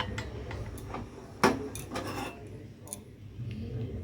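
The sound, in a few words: straining tea, dishes and utensils clinking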